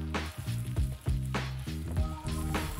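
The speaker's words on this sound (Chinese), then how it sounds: "这个牛肉千层饼不用加油，放在平底锅里慢慢小火煎熟就好" A beef layered pancake pan-frying slowly over low heat in a flat pan with no oil, giving a soft, steady sizzle with low bubbling pops, close and quiet.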